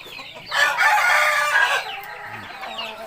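A rooster on a Thai chicken farm gives one long, loud crow that holds steady for over a second before trailing off, with faint background noise and no talk.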